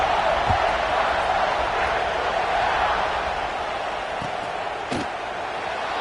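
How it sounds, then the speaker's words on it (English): A stadium crowd in an NCAA college football video game keeps up a steady, dense roar that never drops out, with a few faint thuds beneath it. "this crowd is buzzing after that last score"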